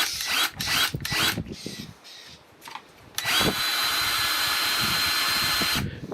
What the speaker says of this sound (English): Sounds like a drill running though when you pull the trigger on it.